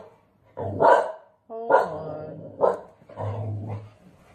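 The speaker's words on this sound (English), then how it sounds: "my dog is barking" A pet dog barks in several loud, close bursts of gruff woofs with a growly edge, spaced irregularly across a few seconds indoors.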